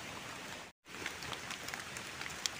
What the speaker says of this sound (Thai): ฝนตกฝนลงก็เฮ็ดน้ําเนาะ